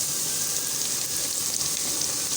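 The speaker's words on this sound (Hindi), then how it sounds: "माशाल्लाह हमारी अरबी अच्छे से फ्राई हो चुकी है। इसके अंदर ही हम थोड़ा सा प्याज ऐड करेंगे।" Taro pieces fry in a pan with onion added, giving a dense, even sizzle that holds steady throughout, close and loud with no voices.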